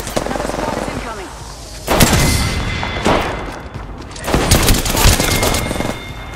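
Bursts of video game gunfire crackle in three loud clusters, the middle and last sustained like automatic fire, with quieter stretches between and a steady game ambience underneath in a battle royale match.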